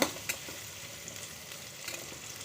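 Steady sizzling and frying from a pan sautéing ingredients for sambar, with a couple of faint stirring clicks at the start, heard close up without talk.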